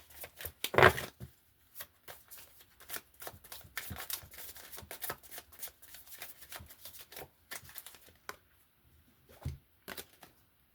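Slippery oracle cards being shuffled by hand, a run of quick soft slaps and riffling flicks, close and fairly quiet, in uneven bursts with brief gaps.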